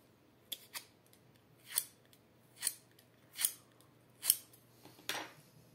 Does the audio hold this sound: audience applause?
no